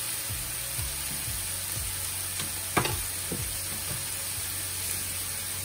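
Frozen vegetables frying in a pan for vegan fried rice give a steady close hiss and sizzle, with a few soft stirring scrapes and one sharper clack partway through.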